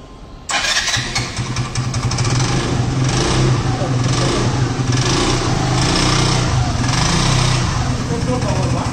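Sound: petrol engine of a hybrid two-wheeler running

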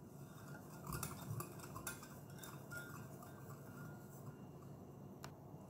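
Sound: stirring warm milk and sugar for donut dough

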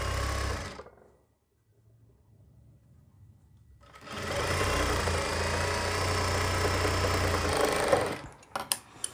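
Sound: sewing machine stitching a V placket neck

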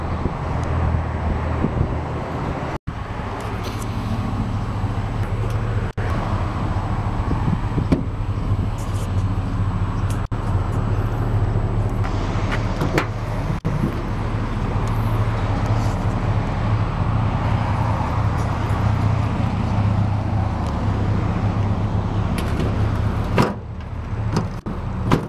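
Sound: 2004 Chevrolet Silverado pickup truck engine running

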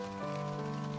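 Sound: rain falling, from video game SeaBed

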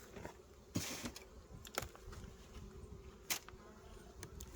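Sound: honey bees buzzing in an opened beehive

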